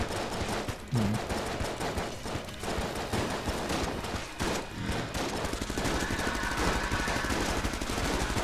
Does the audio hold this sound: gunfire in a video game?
yes